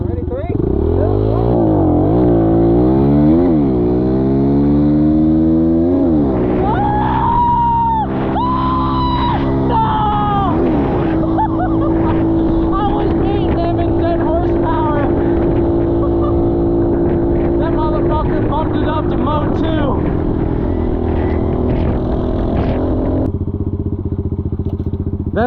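A Stark Varg electric dirt bike races a KLX 110 side by side, a loud engine note rising and falling through gear changes with a steady electric whine beneath, close up, while riders talk over it.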